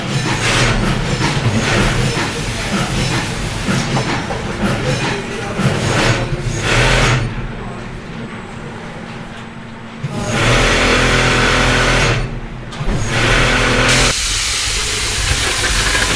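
An automatic machine in a mattress factory stitches mattress covers with a loud, steady industrial hiss and clatter, briefly dipping a few times before resuming.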